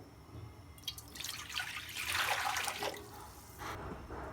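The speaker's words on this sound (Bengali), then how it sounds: "কড়াইতে পানি দিয়ে দেবো ডাল সিদ্ধর" Water is poured into a wok to boil kalai lentils, with uneven splashing gushes that swell and fade in several bursts over a quiet kitchen background.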